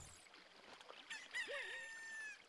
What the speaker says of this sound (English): a chicken hatched